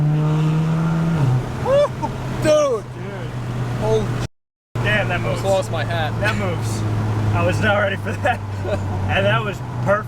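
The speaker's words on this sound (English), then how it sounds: "we're going to do a little bit of a launch control here" A turbocharged 500 hp Audi S3 launches with launch control: engine note climbs in rising sweeps through several gear shifts, loud and close from inside the car, while occupants shout and exclaim over it.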